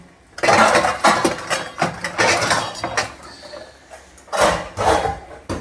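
Dishes, pots, plates and small metal vessels being lifted out of a box, with repeated close clanks, clinks and rattles in uneven bursts and brief pauses between.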